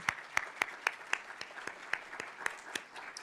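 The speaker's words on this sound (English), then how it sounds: "can we get one more round of applause for all our award winners and honorees?" Scattered, sparse applause from a small audience at an award and portrait presentation ceremony, individual claps landing at a slow, fairly regular rhythm, moderately near.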